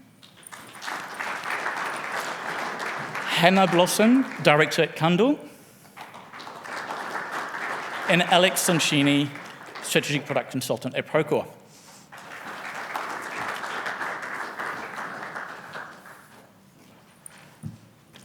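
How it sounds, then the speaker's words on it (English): A conference audience at a construction innovation forum claps loudly as panelists walk on stage, bursts of applause rising and fading between a presenter's announcements over a PA. "please help me with a round of applause as they come up"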